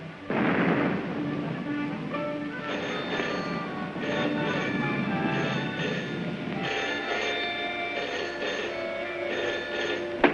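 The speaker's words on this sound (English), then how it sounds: "Listen, guns again." Anti-aircraft guns fire in a 1936 science-fiction film, a dense rumbling barrage of booming reports rolling on continuously like heavy thunder, loud and sustained throughout with no speech.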